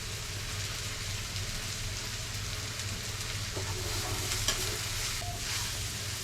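Leftover plain white rice stir-fries in a hot pan, giving a steady, close sizzle and crackle that runs unbroken throughout with no voices.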